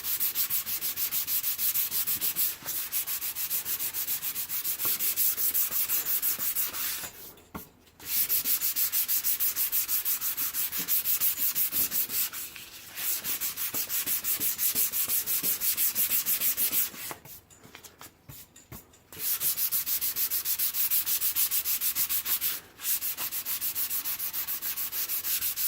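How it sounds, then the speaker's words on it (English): Sanding down primer on a skateboard, a steady close scratchy rubbing that runs continuously with a few short pauses, no voices. "I'm just trying to sand everything evenly to bring the primer surface down to meet the low"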